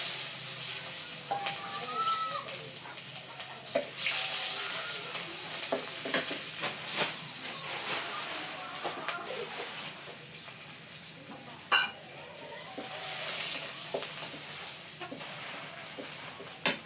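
Chopped onions sizzle and fry in a pan while being stirred, a steady close crackle broken by scraping stirs and a few sharper clinks of utensil on metal.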